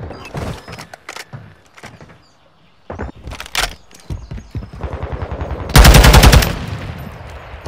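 SMG gunfire in Modern Warfare 2, sharp rapid bursts of close shots scattered among other game noises, ending with a loud sustained burst, no talking.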